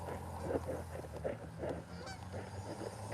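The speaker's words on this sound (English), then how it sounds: "they got the geese in the middle of the night in the Motor City" Geese honking at night in the city of Detroit, a few moderately loud honks repeating irregularly over a steady low urban hum, with no talking.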